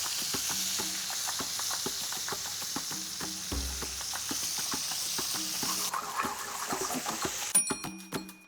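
Softshell crabs sautéing in a pan, a quiet steady sizzle broken by frequent small pops and crackles, with a few scraping stirs near the end and no talk.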